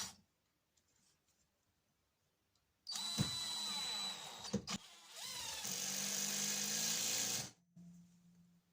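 An impact driver unscrews a fastener with a loud, close whirring burst lasting about four and a half seconds, its pitch and intensity shifting midway before it cuts off sharply into near silence.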